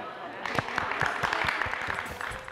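Audience applause after a painting demonstration on fabric cushions, a steady wash of many hands clapping at moderate loudness for a couple of seconds, with individual claps poking out near the front.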